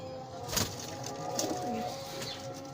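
Pigeons in a loft, including a lakha breed bird and its young, give soft low coos against a steady background, with faint wing flutters and no talk.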